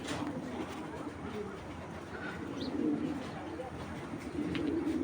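A Bezi breed pigeon hen coos in a loft, soft repeated low calls over faint background noise, with a few other birds chirping.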